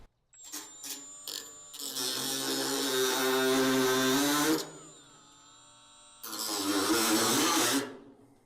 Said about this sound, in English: I'm gonna cut this piece here, and then we can always weld that back.